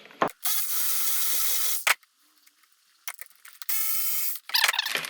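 A hand ratchet backs out a 12 mm bolt holding the reverse shaft on a Toyota R154 manual transmission being torn down, in two bursts of quick, close clicking separated by a short pause, with a few tool knocks.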